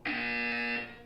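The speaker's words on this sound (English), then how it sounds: "When you hear the buzzer, look up at the ceiling" Portal 2 test-chamber buzzer, a single steady harmonic tone held for about three-quarters of a second, loud and close, then cut off with a brief fading tail, no voices.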